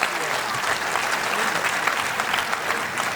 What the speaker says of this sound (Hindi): एक बार तालियां सब बजा दीजिए अच्छे से,